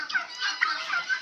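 A turkey gobbles in a quick, rattling burst of warbling calls, fairly close and clear against a quiet background.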